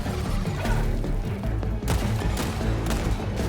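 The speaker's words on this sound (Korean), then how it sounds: "AA-18 오토캐논 센트리입니다. 휴대용 오토캐논과는 달리 장갑을 뜯어버리는 위력을 가진 센트리입니다. 한 번 사격 시 3연발 사격을 합니다." An AA-18 autocannon sentry in Helldivers 2 fires heavy armor-piercing shots in three-round bursts, booming continuously and loudly with dense overlapping blasts and no pauses throughout.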